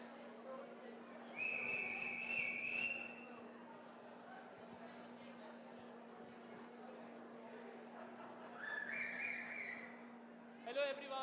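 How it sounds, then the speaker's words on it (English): Two bright, steady whistle blasts sound about six seconds apart in a conference hall at the Caux Forum 2023 plenary, over a low murmur of crowd chatter and a constant electrical hum. "We might need the whistle again."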